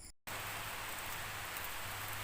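Sudden rain falls steadily near a house, a dense even hiss of drops striking surfaces that begins abruptly after a brief silence and carries on unbroken, with a faint low hum underneath and no talking.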